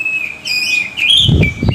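Thin, sustained whistled notes with brief chirps come from a kacer, the oriental magpie-robin, fairly close, followed by a burst of lower rustling noise near the end.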